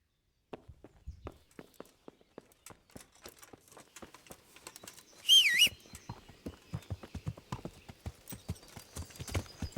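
Horse hooves clip-clopping in Kingdom Come: Deliverance, a steady walking rhythm of crisp, close hoofbeats on hard ground that grows denser and louder, with a brief whinny-like burst in the middle.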